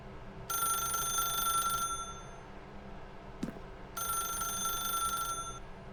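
A telephone bell in a video game rings in two long bursts separated by a pause with a brief click, loud against a quiet background.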